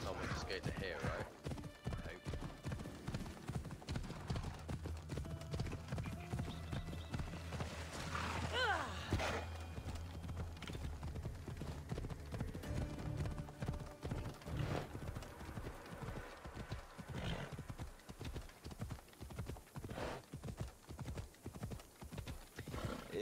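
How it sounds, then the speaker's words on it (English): Rhythmic hoofbeats clop steadily throughout from a horse in the video game Assassin's Creed Odyssey moving at pace, with a whinny partway and a voice talking intermittently underneath. "This is just suddenly getting really slow, and then it seems to gallop."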